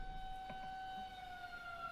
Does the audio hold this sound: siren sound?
yes